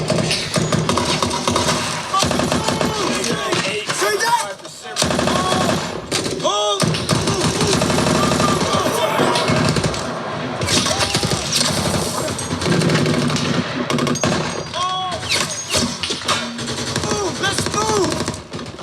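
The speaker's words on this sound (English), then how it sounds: "take a look at some gunfire in the street" Loud, dense street battle from the war film Warfare with rapid bursts and sharp shots over constant roaring background, punctuated by heavy thuds and explosive hits.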